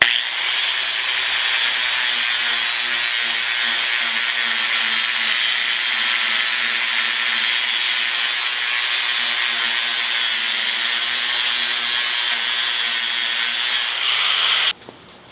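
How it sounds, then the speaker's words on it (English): A flap disc on a grinder polishes mill scale off steel bar stock, giving a continuous loud abrasive whine and rasping hiss that holds steady for about fifteen seconds, then cuts off abruptly. "Take a flap disc. Just polish it up."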